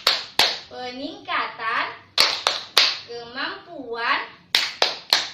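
A group claps in rhythm during a family-skills training session, sharp clusters of hand claps between bursts of voices chanting together.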